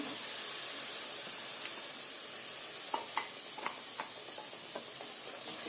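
Tomato puree from three medium tomatoes is stirred into a hot pan for egg curry, sizzling and hissing steadily while a few soft scraping stirs come through in the middle, with no one speaking.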